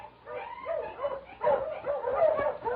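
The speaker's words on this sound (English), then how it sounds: "suddenly I heard a dog." A husky on a snowy trail barks and whimpers in a radio drama effect, a run of yips and whines rising in pitch, fairly close and moderately loud, with short pauses between.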